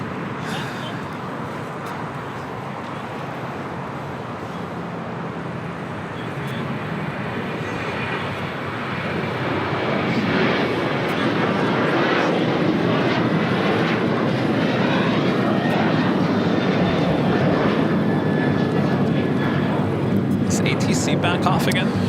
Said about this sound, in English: That was American Airlines 2668 taking off to Nashville on a 737-800.